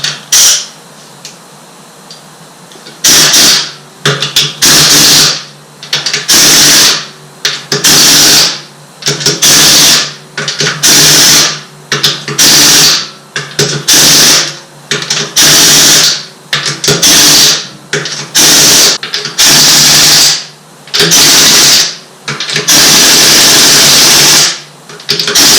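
Pneumatic impact wrench run at very low air pressure, tightening wheel bolts on an MK5 VW Jetta while seating a Mercedes-Benz wheel. Many short loud bursts repeat in quick succession over a steady compressor-like background hiss, close and with no talk.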